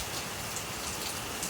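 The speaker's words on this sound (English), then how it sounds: "But this rain will most definitely help." Steady rain falls outdoors during a spell of wildfires in South Carolina, a dense, even hiss of drops on surfaces with no pauses and no voices.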